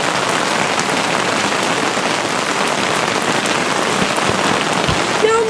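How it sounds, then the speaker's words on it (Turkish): Steady, dense rain pattering on an inflatable tent at a forest campsite during a rainstorm, close and continuous with no voices, a faint hiss throughout. "Yağmuru çok seviyorum ama sadece çadırın içinde"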